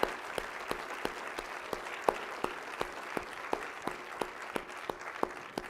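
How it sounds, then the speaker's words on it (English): Steady audience applause fills a university address hall at Idaho State University, a continuous patter of clapping with a few sharper claps standing out. "I think that deserves a round of applause"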